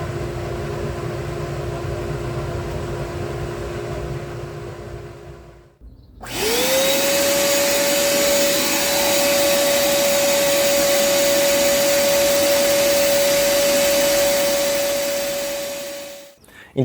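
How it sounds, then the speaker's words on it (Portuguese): A Ferrari dust collector for a home workshop runs steadily with a loud, even whooshing roar and a sustained whine; it winds up after a brief pause, holds for about ten seconds, then begins to cut off. "ou só o coletor de pó para fazer a limpeza da sua oficina"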